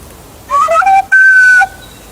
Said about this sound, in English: I have my own little whistle